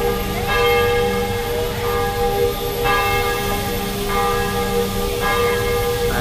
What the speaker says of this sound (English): you can hear the bells echoing all around the area